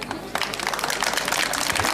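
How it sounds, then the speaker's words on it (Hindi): Short burst of dense audience clapping for the chief guest at a college fresher party in Chamba, a steady, moderately loud patter lasting about two seconds. "जोरदार तालियां हो जाए"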